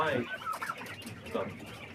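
Chickens and young chicks cluck and peep in short bursts nearby, a few soft calls trading back and forth over a quiet background with no talking.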